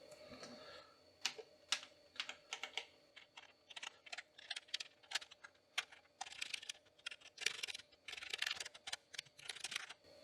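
Rapid, uneven keystrokes on an Amiga 2000 keyboard during testing, a steady run of close clicks and taps with brief pauses, over a faint electronic hum and no talking.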